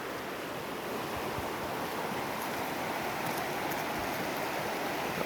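Steady, dense rush of mountain water flowing down a forest waterfall stream at Kaalikesham near Keeriparai, Tamil Nadu, a constant close broadband roar with no talk.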